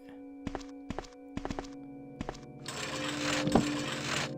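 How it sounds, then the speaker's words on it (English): A puzzle mechanism in the PS1 game Resident Evil gives several dull, close thumps in an uneven rhythm, then a sustained hiss and rumble of machinery with one sharp knock inside it. "we will hear the thump"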